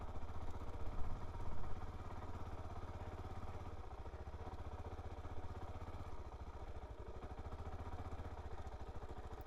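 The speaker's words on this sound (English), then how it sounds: "I can twist the throttle just enough to give it some fuel, and it just motors right along" A Suzuki DR-Z4S motorcycle engine runs under a gentle, steady throttle while riding, a close, even mid-pitched thrum with slight swells early on and wind noise over it.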